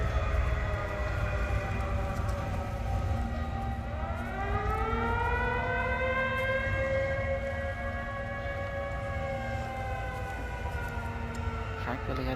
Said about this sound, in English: They know who's setting off the siren at least.